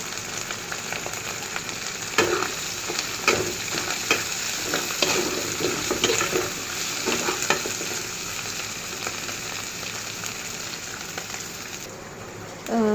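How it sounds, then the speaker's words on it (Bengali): Dried fish with onions frying in hot oil gives a steady, dense sizzle, punctuated by repeated scraping clatters of stirring, close and fairly loud throughout. "আমি আগে তেলে ভালো করে এগুলাকে ভেজে তারপরে পেঁয়াজ দিব।"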